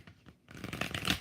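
Tarot cards are shuffled by hand in a brief, crisp riffle of rapid papery flutters after a short quiet pause.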